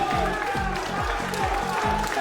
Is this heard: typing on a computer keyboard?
no